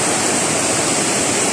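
River water rushing steadily along a cleared riverbank after recent typhoons, a dense, continuous hiss and roar with no breaks and no voices.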